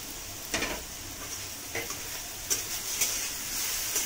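A spatula stirring grated green chili and grated ginger in a hot pan, faint steady frying hiss broken by a few soft scraping strokes, no talking.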